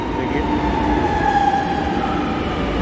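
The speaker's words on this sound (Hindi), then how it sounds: "देखिए ये मेट्रो आ गई है। ये एयरपोर्ट की तरफ को जा रही है" A Lucknow metro train bound for Amausi airport pulls into the station with a steady, loud rumble of rolling wheels and a faint high tone, heard close and without talk.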